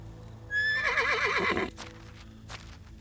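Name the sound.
horse whinnying in the video game Medieval Dynasty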